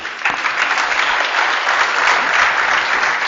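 Crowd at a 2009 Predator 10-ball final applauding a made pool shot, a dense, loud burst of clapping that holds steady throughout, with a faint voice underneath.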